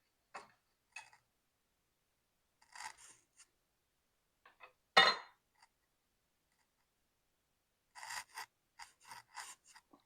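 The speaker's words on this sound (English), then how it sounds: "I'm using a scrape because this is such a messy dough." Dough scraper working a messy bacon cheddar bread dough: sparse, soft scraping and tapping strokes in short clusters separated by silence, one firmer scrape midway and a quick run near the end.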